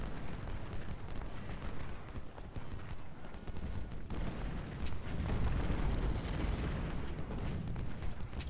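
Civil War artillery fire in the strategy video game Ultimate General: Civil War at the Battle of Cedar Mountain, a continuous rumbling wash of distant cannon booms and battle noise, steady and dense throughout.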